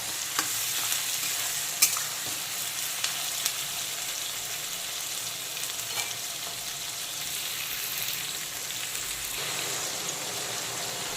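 Chopped onion and crushed garlic fry in a pan for a spicy mutton curry, giving a steady close sizzle with occasional stirring clicks and scrapes, and no voices.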